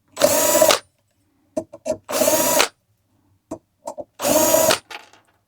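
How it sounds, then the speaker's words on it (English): A power drill backs out screws from the outer rim of a 38-inch low-profile ceiling fan: three loud whirring bursts of under a second each, separated by quiet pauses with small clicks and knocks of handling. "remove the screws on the outer rim"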